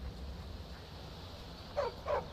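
A spirit dog in modded Skyrim gives two short barks near the end, following a quiet stretch of low game ambience.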